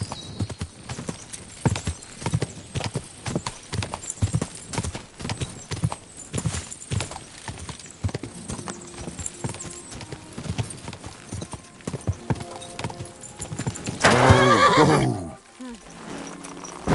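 A horse's hooves clip-clop in a steady, uneven rhythm for a long stretch, then the horse lets out a loud, shrill neigh near the end.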